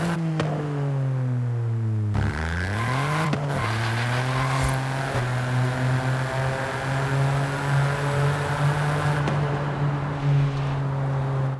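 A Ford Fiesta ST in Forza Horizon 5 driving through the tunnels and streets of Guanajuato, its turbocharged engine droning loud and close, revving up and shifting through gears with a steady, strained tone.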